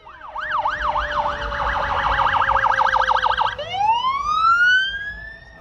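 Emergency vehicle sirens blare during a two-mile emergency vehicle parade on Woodward Avenue, with a rapid yelping siren switching to a rising wail. They are loud, close and continuous over a low crowd and street rumble, with no talking.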